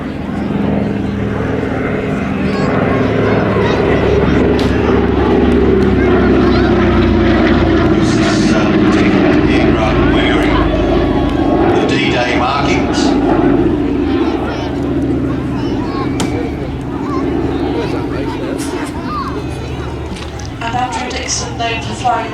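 Douglas C-47 Dakota, registration G-ANAF in RAF KP200 markings, flying at the Midlands Air Festival: a loud, steady propeller engine drone that swells and fades slowly over the whole stretch, with a commentator talking throughout.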